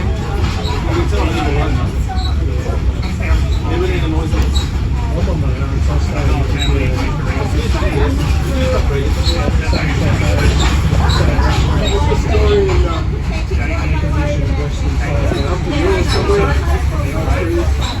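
The Overland train travelling through the Victorian countryside, heard from inside a carriage as a constant low rumble and rattle, with passengers' voices babbling faintly in the background.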